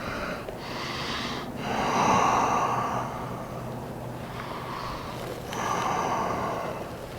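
Slow, audible breaths come close to the mic during a yoga stretch. Two long breathy swells rise and fall with quieter stretches between them.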